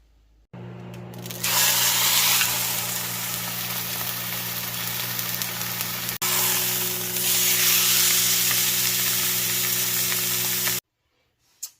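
Sous vide flank steak sears on a hot grill with a loud, steady sizzle and fry that starts abruptly, runs without pause for about ten seconds, then cuts off, a low hum running beneath throughout.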